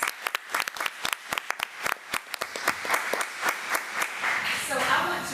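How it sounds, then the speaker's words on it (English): An audience at a school board meeting applauds for Mr. Horvath, starting with a few sharp, distinct claps close by that quickly swell into a fuller, blended round of clapping. "Horvath a round of applause"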